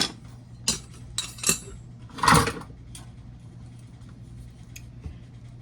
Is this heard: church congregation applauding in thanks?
no